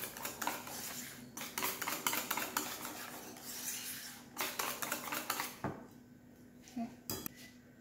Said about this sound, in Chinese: 就打它，用力，差不多1分钟这样吧